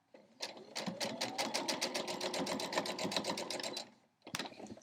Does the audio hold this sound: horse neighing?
no